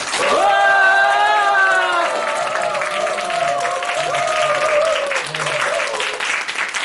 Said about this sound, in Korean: 자, 그럼 박수 한호 시작!